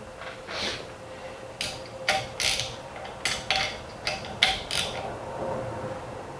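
Several sharp metallic clicks and clanks of steel bolts being fitted into a fence on a surface plate, irregular and close, with brief gaps between bursts.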